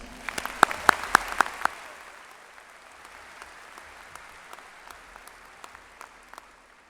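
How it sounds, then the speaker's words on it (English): A few loud, sharp claps up front at a 2017 high school commencement ceremony, then scattered lighter clapping from the audience tapering off over several seconds. "Let's give them a round of applause."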